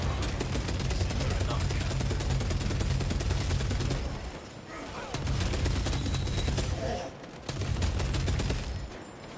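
Sustained heavy gunfire in the Warhammer 40K Space Marine 2 video game, loud and continuous with two brief dips, shots from sniper fire blending into a dense barrage.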